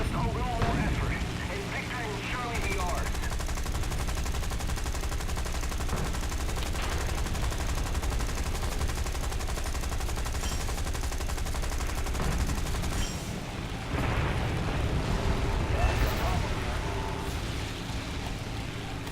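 Dense, sustained machine-gun fire from aircraft in War Thunder, continuous and loud throughout with brief dips near the start and midway, mixed with engine roar and impacts while a voice talks over it.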